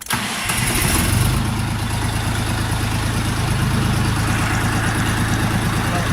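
A Dongfeng DF 244 G2 mini tractor engine cranks and catches, then settles into a steady, even, quiet idle that continues at close range for several seconds.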